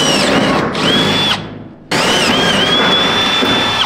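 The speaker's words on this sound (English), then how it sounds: "I've got a hole drilled so I can just put it back up in there" A power drill bores a hole in the inner fender of a Ford dentside truck with a Cummins engine, a loud, close whine that stops briefly and then runs again steadily.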